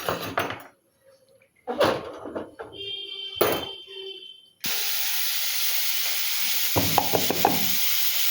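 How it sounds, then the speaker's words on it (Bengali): Fish seasoned with salt and turmeric frying in hot oil in a wok; after a few clatters and quiet gaps, a loud steady sizzle and hiss starts suddenly and continues, close and without talk. "আমি একটু মাছটা ভাজা করে নেব শুধু লবণ আর হলুদ দিয়ে"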